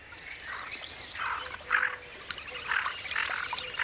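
Ducks quacking outdoors beside an angling spot, several short nasal calls in an irregular run, moderately near but fairly quiet, no talk.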